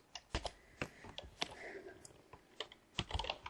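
Quick bursts of computer keyboard typing, with irregular clusters of sharp close key clicks entering command-line commands at a low level in a quiet room.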